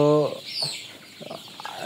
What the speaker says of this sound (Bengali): আজকে আমাদের মুরগির বয়স 31 দিন